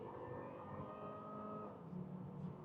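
A Volvo S60 2.0T 180 hp five-cylinder engine hums steadily at a low, even pitch, faint and continuous, with a slight rise in rumble toward the end.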